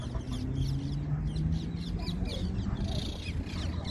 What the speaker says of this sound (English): Some mallard ducks